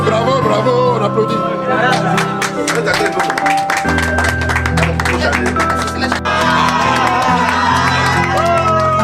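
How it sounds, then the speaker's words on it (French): Cheering, whoops and clapping from a crowd at a birthday celebration at the Royal Monceau, loud and continuous, with music and shouting voices mixed in throughout. "Bravo, bravo, bravo, on applaudit."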